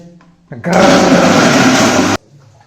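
A kitchen blender grinding chicken meat into a paste for momo filling runs loud and steady for about a second and a half, starting and stopping abruptly, with a voice briefly heard before and after.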